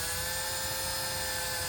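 A power drill whines steadily while starting a hole to mount a fender flare on a golf cart, a continuous high-pitched motor drone heard close and alone.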